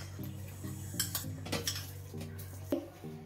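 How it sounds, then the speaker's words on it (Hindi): Coarsely ground rice for kheer is tipped into a cooking pot, with repeated metallic utensil clinks and scrapes close by over a steady low hum, no talking. "अब इसे आप एक बर्तन में डाल लीजिए।"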